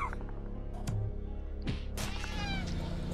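A cat meows in the Slayaway Camp video game, a few short mewing calls among clicks and thumps of game sounds over a steady low background hum.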